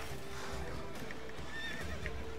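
Roach, a horse in The Witcher 3 video game, gives a clear whinnying neigh over a steady outdoor ambience with faint hoof clip-clop, fairly quiet and with no talking.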